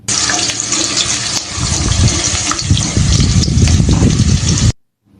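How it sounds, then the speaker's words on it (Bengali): Garlic frying in hot oil left over from deep-frying chicken for Korean fried chicken gives a steady, loud, crackling sizzle that runs unbroken for nearly five seconds, then stops abruptly. "তেলে দিয়ে দিলাম কিছু রসুন"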